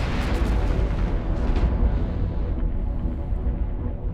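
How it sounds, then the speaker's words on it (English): Several booming missile explosions in EVE Online burst in quick succession with crackling debris, then fade into a low rumbling tail, loud and synthetic-sounding. "Got all of those EvE explosions, right? Missiles."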